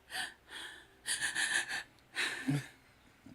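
A person imitates a newborn's strange breathing with a series of airy, wheezing gasps and breathy hisses in uneven bursts, close and moderately loud, with short pauses between them.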